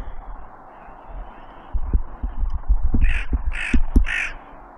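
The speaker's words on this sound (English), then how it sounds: "Killer crow." A crow on a golf course gives three harsh, evenly spaced caws near the microphone, over low thumping handling noise and faint outdoor background.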